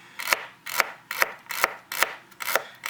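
A knife chops through food on a cutting board in a steady rhythm, six sharp close strokes about half a second apart, each with a brief scraping slide as the food is pushed forward.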